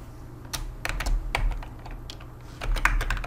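Rapid, irregular keystrokes on a computer keyboard while entering text with the horizontal type tool in After Effects CC 2021, close and fairly loud, with clusters of clicks and short pauses and no talking.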